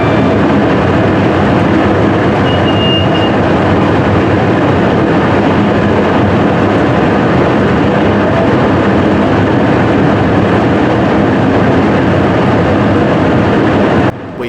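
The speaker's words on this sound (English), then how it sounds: "Pass an Avanti West Coast Class 390 Pendolino, heading en route to London Euston." Avanti West Coast Class 390 Pendolino train passing at speed, a loud continuous broadband roar that holds steady throughout and ends abruptly, with no talk.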